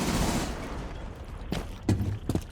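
Video game gunfire in a first-person shooter, a sustained rattling burst at first followed by a few sharp isolated shots, moderately loud and close.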